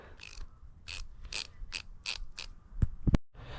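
A hand ratchet wrench being worked back and forth after regreasing, giving several close, evenly spaced bursts of rapid clicking followed by a few sharp louder clacks, with no voices.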